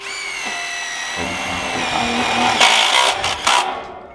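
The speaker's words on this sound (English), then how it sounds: "put your shoulder into the thing and you pull the drill to you" A power drill whines steadily while driving screws into metal, its pitch rising as it bites in, ending with a couple of grinding bursts.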